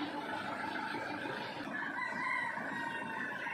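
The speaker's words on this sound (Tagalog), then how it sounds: "Mga alaga kong pato." Several pet ducks on a farm call in a continuous overlapping chorus of nasal squawks, fairly close and steady, with no talk.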